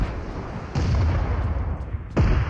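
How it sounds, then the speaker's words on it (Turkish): Rockets fire in a video game: loud booming blasts at roughly evenly spaced moments, each with a rumbling low roar and hissing wash that carries between shots. "Onlar sana mı roket atıyorlar?"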